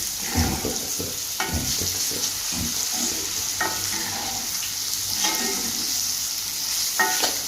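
Potatoes fried with torn dried red chillies in a pan, stirred with repeated scraping strokes over a steady close sizzle, the stirring coming in bursts every second or so.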